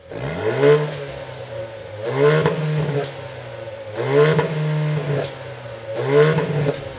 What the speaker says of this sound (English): when you do rev it on the spot, this is what it sounds like